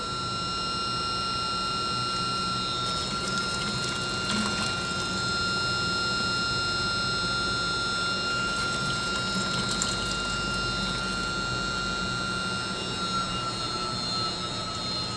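Water from a filtration system pours and splashes into a container with a constant gushing hiss over a steady pump hum, continuing unbroken.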